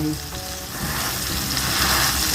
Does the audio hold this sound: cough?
no